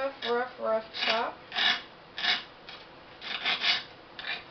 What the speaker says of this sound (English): Y'all can hear that on my cutting board. Just a rough chop.